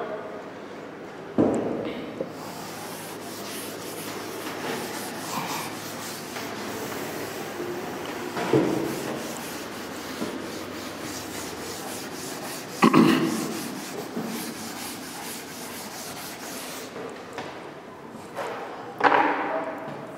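Chalk eraser or duster rubbed across a blackboard in a lecture room, heard as a few separate scrubbing strokes with soft thuds, fairly close, over a steady room hum and no talk.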